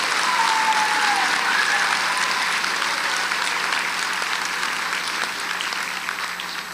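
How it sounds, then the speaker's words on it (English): An audience at a history day awards ceremony claps steadily and loudly throughout, a dense, sustained round of applause that slowly thins toward the end. "Can we give them a round of applause for their hard work and support?"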